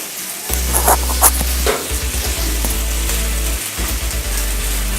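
Pork with Spanish paprika sizzles loudly in a pan while being stirred, a dense crackling fry with scraping stir strokes and a low steady hum underneath, no one talking.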